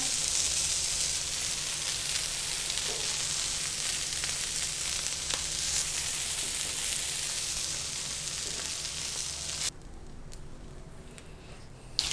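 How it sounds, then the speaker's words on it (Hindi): Fish sizzling on a hot tawa, a steady, loud broadband hiss and crackle that carries on unbroken, then suddenly drops to a softer, quieter sizzle near the end. "बाकी की फ़िश को भी हम इसी तरीके से फ्राई कर लेंगे"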